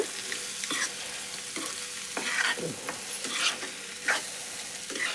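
Onion and egg curry with chili powder is stirred in a frying pan: a spoon scrapes and clacks in repeated strokes over a steady close sizzle, with no voices.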